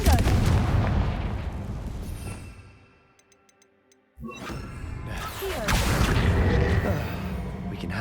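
A Confringo blasting spell goes off in the Hogwarts Legacy video game, a loud booming burst that fades to near silence before another sharp blast and a sustained rumbling crackle return.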